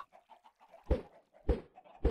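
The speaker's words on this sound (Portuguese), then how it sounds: "Ô, galinhas, volta pra cá." Chickens cluck in Minecraft 1.19.73 on an egg farm: a run of soft clucks, with three louder, sharper squawks at regular intervals, up close and with no talking.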